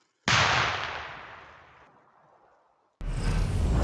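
A sharp explosion from a cluster munition strike bursts out and its roar decays over a couple of seconds, followed by a second loud blast that starts abruptly.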